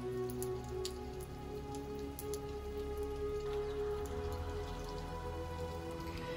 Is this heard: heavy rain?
yes